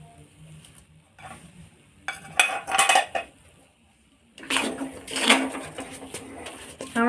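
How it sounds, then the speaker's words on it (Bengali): A spoon or spatula scrapes and clatters against a pan while potato filling with coriander is stirred, in short bursts of metallic scraping separated by quieter gaps, close and fairly loud, with no talk. "ধনেপাতা দিয়ে একটু নেড়ে চেড়ে নিতে হবে।"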